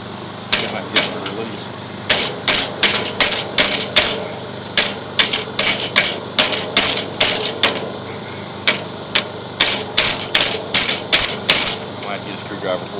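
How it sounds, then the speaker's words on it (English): Hammer blows on the metal slide of a high mast light head during leveling maintenance, sharp clanging strikes in quick bursts of several hits separated by short pauses, close and loud. "readjust that one with a hammer and bring that slide up and relock it"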